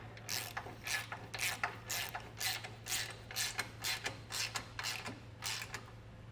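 A ratchet snugs down a kit bolt on a base plate for a 2023 Jeep Wrangler 4xe, giving about fourteen rapid, evenly spaced clicking bursts close by over a steady low hum.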